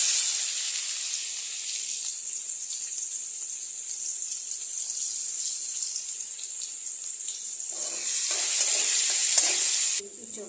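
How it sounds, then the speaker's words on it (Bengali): Chopped onions frying in oil in a pan, a loud continuous close hiss that holds steady for about ten seconds, then cuts off abruptly. "তেল দিয়ে আমি সবার প্রথমে ছেড়ে দেবো কুচা পেঁয়াজ।"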